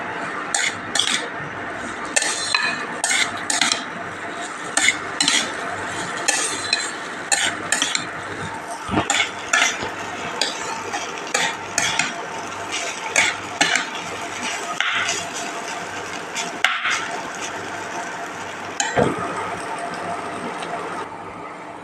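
Broken wheat (daliya) is stirred in a pan over low-to-medium heat, giving repeated scraping and clinking strokes of a spoon against metal with a soft dry rustle of grains, steady and close, with no voices.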